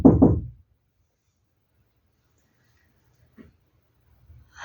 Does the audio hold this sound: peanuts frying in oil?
no